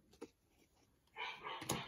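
A small pug barks at the mailman in the background, with a faint yap followed by a louder stretch of barking toward the end.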